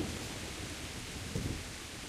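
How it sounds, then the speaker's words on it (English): Rain pours down steadily in the medieval video game Kingdom Come: Deliverance, a dense, even hiss with a faint low rumble beneath, with no talk over it. "hopefully this rain will stop"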